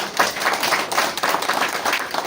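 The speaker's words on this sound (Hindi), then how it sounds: "इसके लिए एक जोरदार तालियां" A group claps steadily and enthusiastically, loud and close, a continuous patter of many hands with no voices over it.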